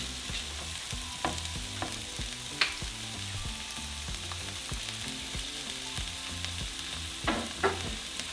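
Onions and tomatoes frying in hot oil, a soft, steady sizzle with scattered pops and repeated scraping stirs of a utensil against the pan, nearby but fairly quiet, without any talking.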